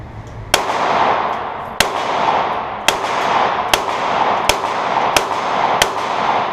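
Target shooting with a series of sharp, loud gunshots at a steady pace, about nine cracks roughly a second apart, each followed by a brief rushing echo that decays before the next shot.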